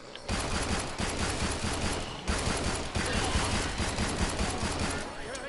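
Sustained rapid gunfire from a gun in a shooter video game, loud and continuous bursts with brief gaps near the start and around the two-second mark, with no voices over it.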